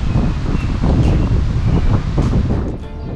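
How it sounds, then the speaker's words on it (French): Strong wind buffeting a microphone outdoors in Saint-Laurent, Montreal, with a constant low rumble and roar and no voices. "C'est parce qu'à Saint-Laurent, il y a vraiment beaucoup de vent."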